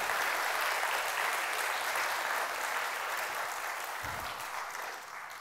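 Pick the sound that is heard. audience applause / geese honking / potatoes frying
audience applause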